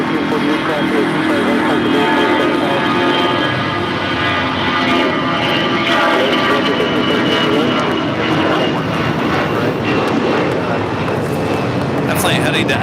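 A jet airliner at LAX airport roars loudly and steadily through the whole stretch, its broad engine noise dense and continuous, with faint radio voices mixed underneath.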